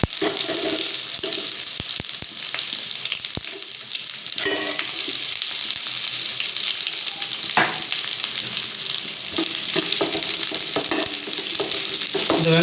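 Onions sizzle and crackle steadily in a hot pan, with occasional scrapes and clicks of stirring, close and continuous.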